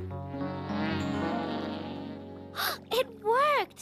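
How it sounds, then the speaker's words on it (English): Cartoon bee buzzing at a park in a children's animated show, a steady drone that wavers in pitch, followed by short swooping, darting buzzes as the insect flies about; loud and close, with no talk. "A bee! Shoo, bee! Shoo!"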